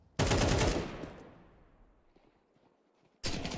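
AK rifle fire rips out in Counter-Strike 2: a loud, sharp burst of gunshots with a long decaying echo tail, then a second burst cutting in at the end.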